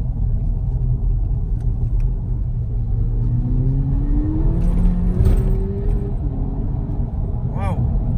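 A car driven in sport mode, its engine and exhaust heard from inside as a steady, loud low rumble with a rising revving tone that climbs and falls as it accelerates along a straight. People talk over it.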